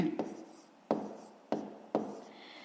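Pen writing in a notebook during a fifth-grade maths exercise, with soft scratching strokes broken by four sharp taps at roughly even intervals, quiet and close.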